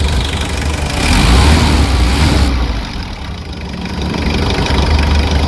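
Loud, steady engine idle of a hot Mitsubishi L300 Versa Van engine that stalls intermittently, with a low rumble, dipping slightly midway before returning to an even drone.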